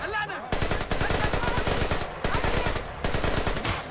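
Rapid automatic gunfire in Splinter Cell: Conviction, a loud, close stream of bursts with brief gaps, alone with no talk.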